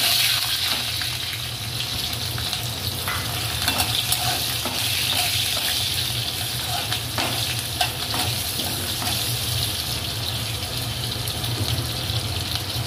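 Cumin seeds and green chili fry in hot oil as a tempering, giving a loud, dense, continuous sizzle close at hand, with occasional stirring clicks and scrapes and no voices.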